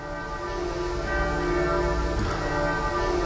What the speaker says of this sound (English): What do you think those bells are saying?